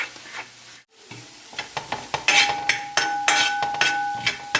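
Lamb brain masala being stirred and fried in a pan, a spatula scraping and clinking in repeated strokes over a steady sizzle, close and fairly loud.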